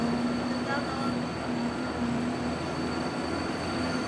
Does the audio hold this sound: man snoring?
no